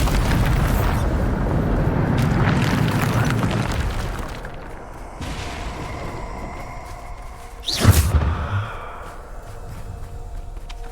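A Bombarda spell explodes in Hogwarts Legacy with a deep, loud burst near the midpoint, preceded by a heavy rumbling whoosh and followed by a fading reverberant tail.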